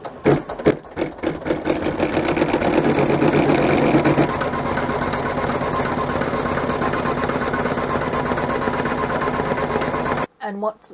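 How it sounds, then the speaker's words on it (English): An embroidery machine stitches the final color of an in-the-hoop luggage ID tag, whirring in a loud, rapid, steady mechanical rhythm for about ten seconds before stopping abruptly, followed by a brief separate sound. "Then we're going to return the hoop to the machine and stitch the final colorway."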